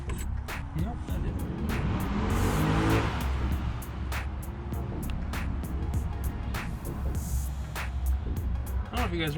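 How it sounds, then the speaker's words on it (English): V8-swapped Mazda Miata driving past down a street, a fairly faint engine swell rising and fading against steady background noise, with clicking sounds throughout. "That was a V8 swap Mazda Miata. Seen it down the street."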